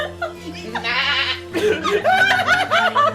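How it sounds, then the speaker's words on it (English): Goat bleats from the Phoenix Wright: Ace Attorney video game, a wavering nasal cry repeated in quick wobbly bursts, heard with laughing voices over the game sound. "There must be a goat somewhere."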